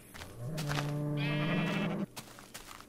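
A sheep on a Minecraft farm gives one clear, drawn-out bleat lasting over a second, close and fairly loud, followed by a few faint clicks.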